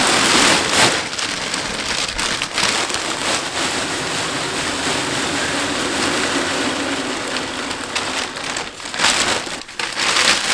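Wood pellets pour steadily into the hopper of a pellet boiler in a countryside home, a continuous dense rattling hiss that runs for about ten seconds with brief dips, close and fairly loud, with no talking.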